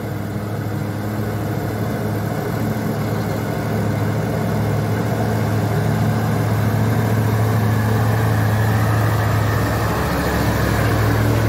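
A Fuso tanker truck's engine labours steadily uphill on a wet road, a continuous low diesel drone that holds near and fairly loud throughout, with a slight pitch shift late on.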